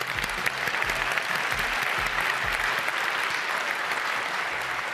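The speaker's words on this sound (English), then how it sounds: "huge round of applause" A tech conference audience gives dense, continuous applause, a full roomful of clapping at steady volume, with some low rumbling thumps underneath.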